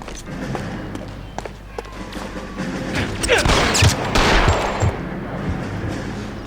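Gunfire in the video game L.A. Noire, a burst of shots and rumbling blasts amid a shootout, rising to a loud cluster in the middle before easing off.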